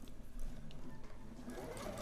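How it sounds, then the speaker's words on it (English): A sewing machine stitches over a fabric seam, its motor humming and needle clattering steadily at close range for a couple of seconds without any speech. "I don't want to sew over that pin, but I do want to sew over that seam before I stop."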